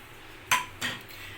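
Two brief clinks of a utensil against a bowl while chicken breast is mixed with ginger garlic paste, black pepper, oregano, chili flakes and salt, with quiet pauses between.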